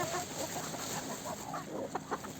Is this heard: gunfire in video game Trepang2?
no